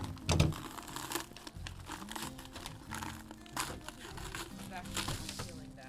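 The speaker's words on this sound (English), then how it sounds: "And there's still plastic in here, but I can pull it out." Plastic wrapping crinkles and rustles as it is pulled from inside a raw turkey being prepared for spatchcocking, with dense, close crackling bursts throughout.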